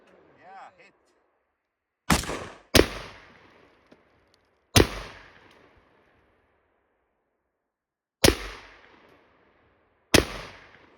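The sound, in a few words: gunshots at a shooting range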